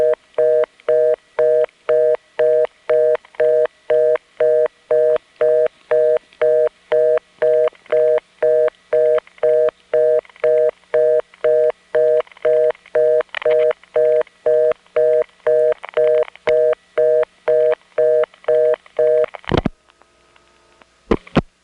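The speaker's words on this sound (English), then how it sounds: "The modern tone reorder with all that step crosstalk in the background" Reorder tone on a 1977 telephone line served by step-by-step switching: a fast, regular beeping pulse repeating for about twenty seconds, with faint clicking crosstalk underneath, ending in a sharp click and quiet line noise.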